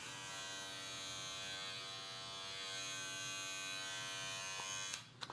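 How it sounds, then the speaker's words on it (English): A replica of an Andis Profoil electric foil shaver buzzes steadily at a softer level, its hum continuous until it clicks off just before the end. "So as you can tell, this is a lot quieter than the Andis shaver."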